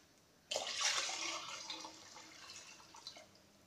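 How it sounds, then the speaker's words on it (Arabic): Water is poured from above into a pot of chicken soup, starting abruptly as a bright splashing gush that gradually softens into a gentler trickle, close and alone. "وهزود بقى الشوربه دي بقى ميه"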